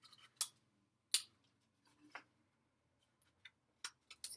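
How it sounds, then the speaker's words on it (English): Tape handled to join two paper ends, a scattered series of short crisp crackles and snips, close and quiet with silent gaps between them. "I'm going to take tape and I'm going to tape the two sides together."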